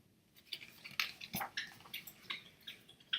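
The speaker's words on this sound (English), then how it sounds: "that's my dog drinking water" A dog lapping water in a rhythmic series of quiet, wet laps and splashes, close by in a still room.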